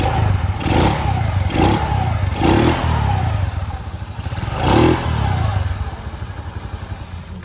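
A Suzuki Skywave scooter engine, freshly fitted with upgraded CVT parts, starts and idles with a steady rumble, broken by several sharp throttle revs at close range, with no talking.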